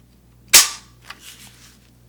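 An airsoft gun fires a single hip-fire shot: one sharp, close crack with a quick fading tail, followed by a few faint mechanical clicks in otherwise quiet surroundings.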